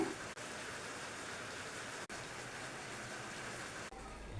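Steady, soft hiss of rain falling continuously, fairly faint, with no voices.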